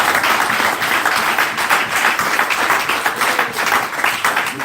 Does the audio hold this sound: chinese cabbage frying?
no